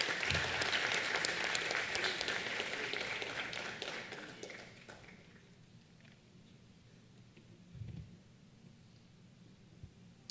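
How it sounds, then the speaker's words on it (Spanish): Applause from the audience at a dental aesthetics congress awards ceremony, loud and dense for about five seconds, then thinning to scattered claps and quiet room noise. "les pido un fuerte aplauso"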